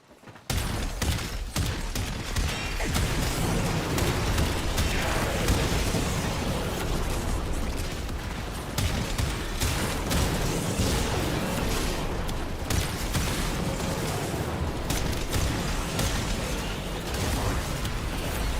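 A Stug, a weird shotgun-like weapon with forma, fires in Warframe as a long, loud, continuous barrage of overlapping blasts and bursting pops, sustained without pause for the whole stretch.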